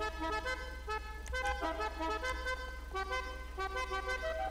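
A custom car horn on an Entity XF supercar in GTA 5 Online plays a steady melodic tooting pattern of repeated tones, clear and sustained over a constant low hum.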